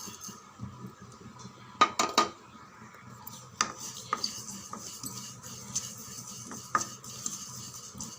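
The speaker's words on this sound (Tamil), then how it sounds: "இதை அப்படியே நல்லா பொன்னிறமாக வறுத்து எடுத்துடலாம்." A spoon scrapes and stirs in a metal pan, with sharp clinks and a quiet rustle of white sesame seeds being roasted and tossed, close up and intermittent.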